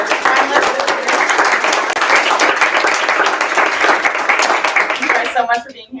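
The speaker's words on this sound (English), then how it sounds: "let's give a round of applause for our finalists" Sustained applause from a business awards audience honoring finalists, dense and steady for about five seconds, then tapering off as a voice begins speaking near the end.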